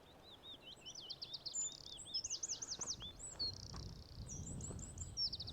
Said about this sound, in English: A bird song.